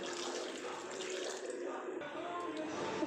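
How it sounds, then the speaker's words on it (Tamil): Water is poured into a cooking pot over washed elephant foot yam for boiling, a continuous close splashing flow that keeps up steadily throughout. "வேகிற அளவுக்கு தண்ணி ஊற்றிக்கலாம்."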